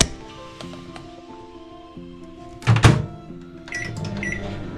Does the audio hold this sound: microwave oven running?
yes